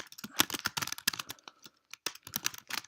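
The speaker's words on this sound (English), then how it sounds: "we're going to type in" Close, crisp keystrokes on a computer keyboard, rapid irregular clicks in short bursts with brief pauses, and no voices.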